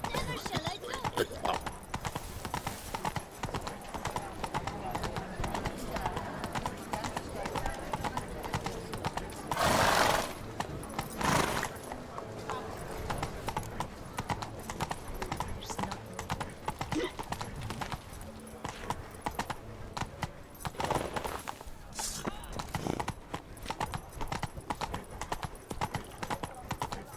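Horse hooves clip-clop steadily at a trot in The Witcher 3: Blood and Wine, close and rhythmic, with a whinny partway through and a voice talking over the hoofbeats at times.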